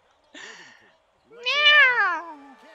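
A person imitates a cat's meow twice during a basketball game stream, a short nasal mew followed by a louder, longer rising-and-falling meow, close and alone.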